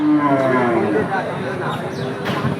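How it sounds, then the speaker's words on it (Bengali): Indian bullocks at a cattle market low with moos amid a busy crowd, several calls rising over steady background chatter and noise. "ইন্ডিয়ান বলদ গরু আপনারা দেখতে পাচ্ছেন"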